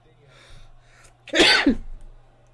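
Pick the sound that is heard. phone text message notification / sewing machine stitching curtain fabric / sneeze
sneeze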